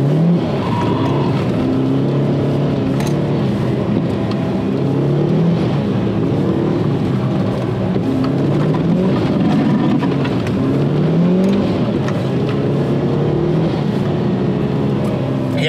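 A Mitsubishi Lancer Evo driven hard on fresh snow, its engine revving and surging in repeated rising and falling pulls, loud and close from inside the car, with occasional faint voices.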